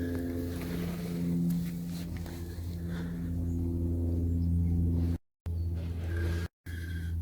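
A Honda Civic Type R Mk 8 Gen C fitted with an FN2 M2 rear exhaust, idling with a steady low rumble close by, broken by two short dropouts near the end.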